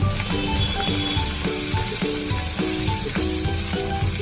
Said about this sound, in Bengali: গ্যাসের ফ্লেম লো করে এটাকে এখন আমি 2 মিনিট মতো কষিয়ে নেব